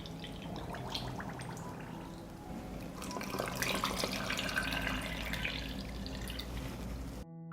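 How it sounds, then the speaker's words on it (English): Water pours steadily from a tap into glass canning jars packed with peaches, a continuous close splashing and trickling that swells slightly midway and stops abruptly near the end, without talk. "I will fill the jars with water to cover the peaches."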